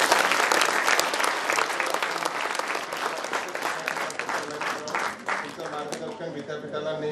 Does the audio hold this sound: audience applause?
yes